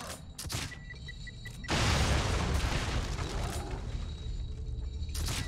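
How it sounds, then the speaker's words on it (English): Explosive crossbow bolts fire and detonate in The Evil Within, opening with short mechanical clicks and beeps before a loud, sustained blast of roaring, crackling noise that persists to the end. "I'm gonna fire a few boomy bolts down there"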